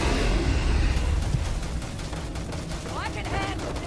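Gunfire in the sci-fi game Starfield, a dense burst of shots at the start that thins into scattered cracks under ongoing game noise and voices.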